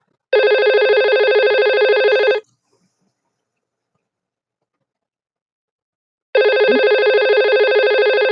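An IP phone rings in two loud electronic bursts, each about two seconds of buzzy warbling tone, separated by several seconds of silence, heard up close with no talk.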